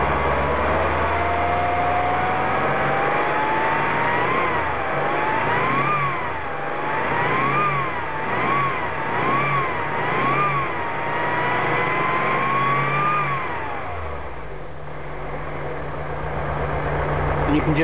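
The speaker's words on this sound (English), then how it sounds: "you can just hear the idle stabilisation kicking in at the end there" Volkswagen T3 van engine with a DJ-type air flow meter, revved repeatedly by throttle blips in a rising and falling pattern, then dropping back to a steady idle, heard close with a constant engine drone underneath.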